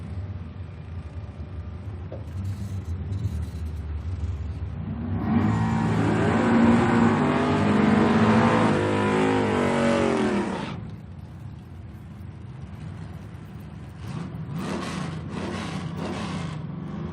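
A Plymouth Cuda in AAR style and a Camaro launching at a drag strip, their engines swelling into a loud, sustained high-revving roar for about five seconds before fading, followed by a quieter distant rumble.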